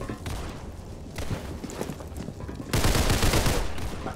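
Rapid gunfire in the Roblox game Criminality, with bursts of close shots that build into a loud volley near the end, with faint speech underneath.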